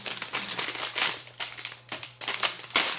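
Plastic bag wrapping a 30-pin connector accessory crinkling close up in irregular bursts of crisp rustling, with brief pauses between handling movements and no talking.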